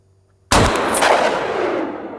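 A single rifle gunshot at target practice in Svalbard, loud and close after a quiet moment, with a sharp crack that rolls into a long, fading outdoor echo.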